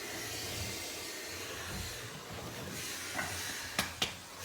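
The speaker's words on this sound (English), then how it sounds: "slowly take the steamer over the desired area you wish to remove" A wallpaper steamer held against papered wall gives off a steady, moderate hiss, with a few sharp clicks near the end.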